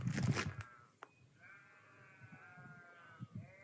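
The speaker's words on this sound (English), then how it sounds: "I don't know if you can hear the sheep in the distance." Sheep bleating at dinner time somewhere distant in open countryside, several faint drawn-out bleats with quiet rustling and a few soft footsteps or knocks nearby.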